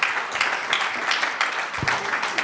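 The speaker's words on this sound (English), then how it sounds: "So please join me in applauding this panel for their inputs." A room of listeners claps for a panel after a youth-and-online-life discussion, brief uneven applause with a few sharper individual claps standing out from the wash.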